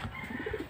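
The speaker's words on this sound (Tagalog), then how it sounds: "Dumating na yung isang kalapati natin mga kalapatids." A pigeon gives a soft, low cooing call up close in a wooded spot, a few short rising notes with no talking.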